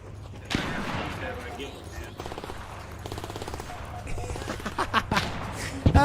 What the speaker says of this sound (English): Watch out, that thing's about to shoot you.